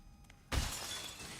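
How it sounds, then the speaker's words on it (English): Glass window shattering in the horror video game The Outlast Trials: a sudden loud crash with a bright, lingering spray of breaking shards, following a short quiet lead-in. "I just broke a glass window"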